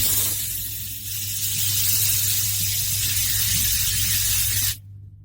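A continuous fizzing hiss of gas escaping from a bottle of fermented tepache made with goji berries, steady for several seconds before cutting off abruptly, with a low hum underneath.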